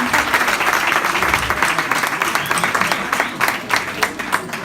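Loud, close applause from an audience at a speech during a fashion charity sale, with sustained dense clapping and occasional sharper individual claps standing out across the whole stretch.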